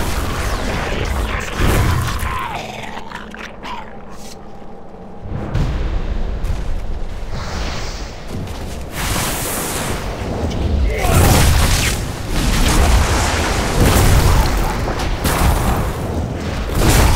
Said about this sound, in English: Carpet bomb the platform!